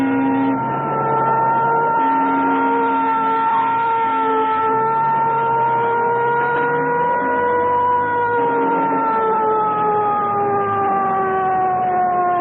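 An ambulance siren wails continuously with rising and falling tones in a 1930s street scene, loud and steady over a low traffic rumble.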